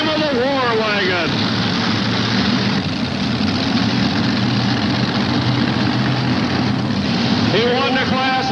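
Loud heavy engine roar from tractor pull machines competing at a 1988 truck and tractor pull in Charlotte, North Carolina, a steady sustained drone with a rising engine whine at the start and end, under a commentator's voice.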